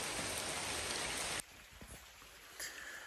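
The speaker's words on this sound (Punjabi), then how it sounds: "ਦੇਖੋ ਕਿੰਨੀ ਤੇਜ਼ੀ ਨਾਲ ਬਾਰਿਸ਼ ਹੁੰਦੀ ਪਈ ਹੈ" A heavy, long-lasting downpour roars loud and close for about a second and a half, then drops to a softer, steady patter of rain.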